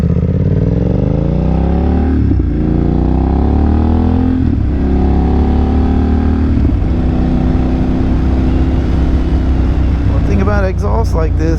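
A 2022 BMW F900R motorcycle engine growls loudly up close, its exhaust note rising and falling through several revs, with a brief voice near the end.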